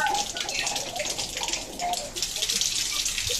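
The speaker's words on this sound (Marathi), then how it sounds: "हवा येत आहे नळातून बाहेर" Water splutters and hisses from a tap in uneven bursts as air escapes the line after a geyser installation, with a faint voice in the background.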